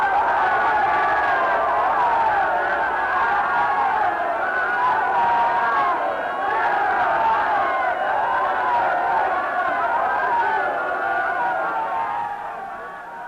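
A large crowd answers Pilate's offer to release Jesus or Barabbas, a sustained, loud roar of many voices shouting together for the whole stretch, fading slightly at the end.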